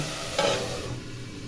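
Broccoli fries softly in a covered pan, with a brief louder scrape or stir near the start and a quieter hiss afterward.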